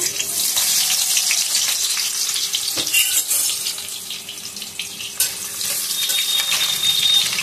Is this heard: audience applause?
no